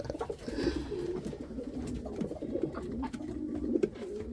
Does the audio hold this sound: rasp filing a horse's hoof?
no